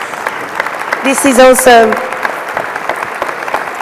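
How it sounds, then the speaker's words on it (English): Audience applause at a UN migration conference session on the Global Compact for Migration: steady clapping from the room runs throughout, while a voice briefly speaks and a short tonal sound rises over it midway. "please join me in a round of applause"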